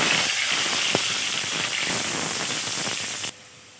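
Potatoes drop into hot oil in a pan tempered with black cumin and bay leaf, producing a loud, dense crackling sizzle up close that stops abruptly near the end.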